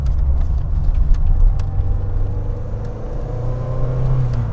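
A Lancia Delta HF Integrale's turbocharged engine pulls hard, a close, loud low rumble that rises steadily in pitch as the car accelerates, with no talking.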